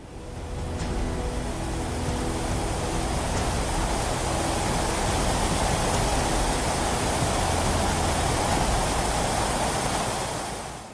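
Niagara Falls in winter, its upper edge partly frozen, roaring as one loud, unbroken wash of falling water that holds steady throughout.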